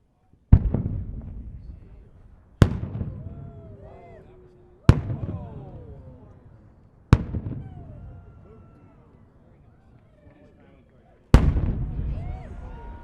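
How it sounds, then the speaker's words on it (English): A 6-inch three-break firework shell of gold glitter with green centers and a bottom shot goes off as five sharp booming bursts spaced a couple of seconds apart, each trailing a long crackling decay outdoors. "It's a 6-inch 3 break of gold glitter with green centers and a bottom shot."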